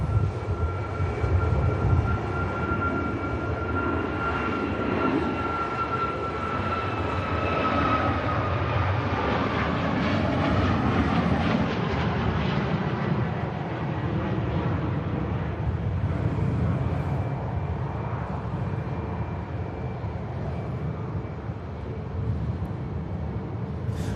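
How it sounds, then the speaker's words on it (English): An Icelandair Boeing 737 MAX 9 departing Manchester Airport for Reykjavik, heard as a steady, broad jet engine roar with a faint whining tone, sustained at a fairly constant level from a moderate distance. "We go Ice Max 9, heading on the return leg to Reykjavik now."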